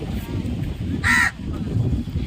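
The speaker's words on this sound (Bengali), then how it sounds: "কাকটা দেখেছো কীরকম চেঁচাচ্ছে" A crow gives one loud, harsh caw close by at the seashore, cutting through a background of gusting sea wind.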